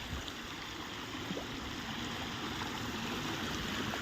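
Clear water flows steadily across a roadside area into a pond after rain, a continuous, even rushing wash with no voices.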